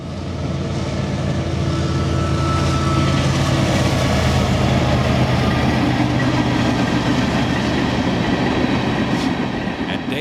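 A long CSX freight train of empty cars rumbles past loudly and continuously at Dade City, Florida, with steady rolling wheel noise and faint rhythmic clatter throughout.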